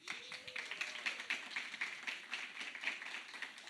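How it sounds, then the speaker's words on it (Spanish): Faint, scattered clapping from a church congregation during a pastor's sermon, a handful of distinct claps in an uneven rhythm, distant and sparse. "Otro aplauso."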